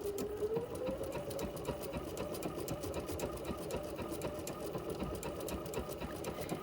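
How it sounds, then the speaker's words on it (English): A sewing machine stitches along the edge of a piece of wool, a steady, close mechanical whirr with a rapid rhythmic needle clatter that runs unbroken after a short rise in speed at the start. "I'm running the edge of the wool right down the center of my presser foot"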